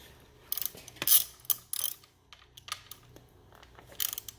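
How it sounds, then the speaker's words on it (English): A ratchet wrench clicks in short, quick bursts as it loosens the left-hand pinch bolts on a Kawasaki KX450F motocross front fork, with metallic turning and pauses between runs. "we're going to loosen the left-hand side pinch bolts"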